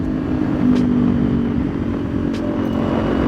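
A 2023 Kawasaki Ninja 400 cruises steadily on a sunset ride, its engine drone loud and constant under heavy rushing wind noise, with a brief tonal rise early on and no speech.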